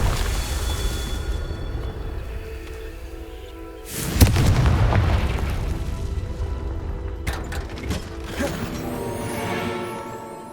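Confringo fire spells burst in the Hogwarts Legacy video game, with a deep explosive boom midway over a droning game soundtrack and later sharp crackling impacts.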